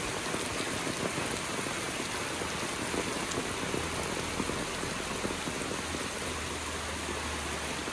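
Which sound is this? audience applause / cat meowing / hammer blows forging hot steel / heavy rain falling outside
heavy rain falling outside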